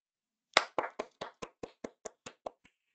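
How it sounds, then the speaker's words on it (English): Hands clap eleven times in a quick, even series, each sharp crack close and distinct against silence, with the final clap fainter. "Clap your hands"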